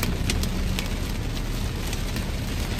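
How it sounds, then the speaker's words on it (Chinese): Heavy rain and hail pound a car being driven through a sudden storm in Qingdao, with the wipers on full, making a dense, steady, roaring patter with scattered sharper impacts, loud and close throughout. "哎呀很久没有见过这么大的雨了"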